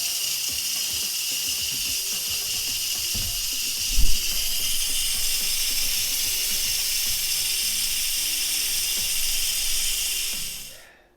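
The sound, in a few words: steam hissing out of a pressure cooker release valve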